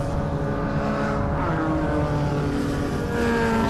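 A Mazda MX-5 race car drives past on a circuit during a race, its engine note holding a steady mid-pitched drone with a slight shift in pitch, moderately loud with no talk over it.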